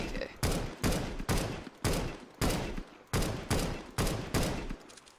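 An auto sniper fires in Counter-Strike: Global Offensive with about nine loud, evenly spaced single shots, each a sharp crack with a short decay, rhythmic and close.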